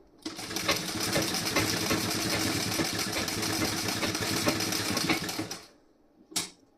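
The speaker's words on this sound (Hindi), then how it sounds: "मैं जब तक स्टिचिंग कर रही हूँ" A sewing machine stitches the back design of a blouse, a fast, steady mechanical whir with rapid needle ticks running for several seconds, then stopping, followed by one short clatter.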